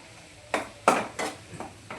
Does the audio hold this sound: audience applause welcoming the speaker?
no